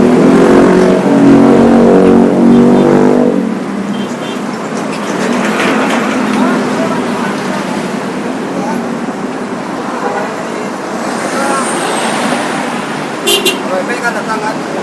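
A car pulls up and revs outdoors, its engine loud and steady at the start, then easing into a continuous roadside rumble as people talk over it.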